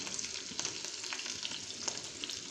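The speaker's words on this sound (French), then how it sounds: "je vais faire revenir les épinards avec de l'ail" Spinach and garlic sauté in oil in a pan, a close, soft crackling sizzle with light stirring scrapes throughout and no voices.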